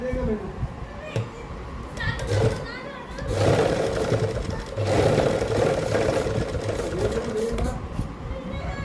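Sewing machine stitching elastic, its rapid mechanical whirring running in bursts and swelling louder midway, with a voice and some background children audible.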